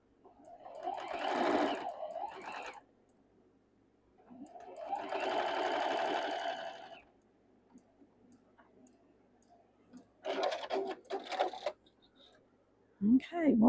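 A sewing machine stitches a quilt block seam in three separate runs of rapid, even mechanical chatter, close and moderately loud, with quiet pauses between runs and a brief voice at the very end.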